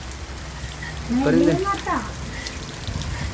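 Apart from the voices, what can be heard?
rain falling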